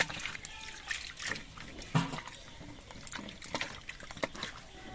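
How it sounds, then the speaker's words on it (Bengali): Peeled beets being rinsed in water, with soft trickling and small splashes as the pieces are handled, fairly close and moderately quiet throughout. "এবার বিটগুলো আমি ধুয়ে নিচ্ছি"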